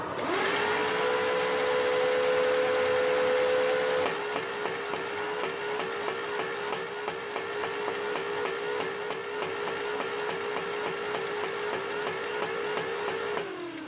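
A Nerf Rival minigun toy blaster whirs up with a rising motor whine, then fires at a low rate, giving a rapid mechanical rattle of repeated shots over the steady motor drone, close and continuous until it winds down.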